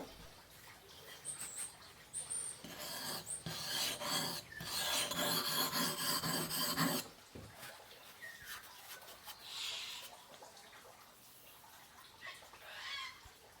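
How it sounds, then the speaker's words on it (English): A hatchet blade rasping back and forth across the fine side of a sharpening stone, close and steady in strokes that swell louder midway and then fade to lighter scraping. "Now we turn the stone over to its fine side and repeat the sharpening for both sides of the hatchet."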